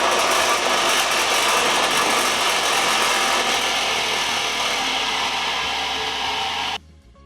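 Bench knife-sharpening grinder wheel switched on and running, a steady loud motor whir with broadband hum that holds evenly, then cuts off abruptly near the end.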